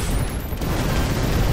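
Firework-weapon explosions in the artillery game Shellshock Live, a loud, dense wash of crackling blasts and booms that rolls on without a break.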